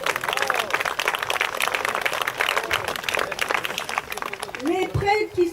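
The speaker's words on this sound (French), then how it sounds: "on l'applaudit." An audience at a catechumens' celebration applauds warmly for a bishop, a dense, steady clapping from a crowd with voices calling out over it near the end.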